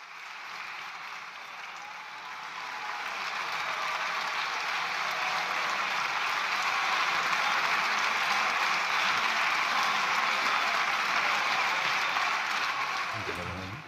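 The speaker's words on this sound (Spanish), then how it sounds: "Aplausos de las filas socialistas hacia el presidente del Gobierno." Sustained applause from the socialist benches in the Spanish parliament for Pedro Sánchez, a dense, even wash of clapping that swells slightly and holds for about fourteen seconds before cutting off.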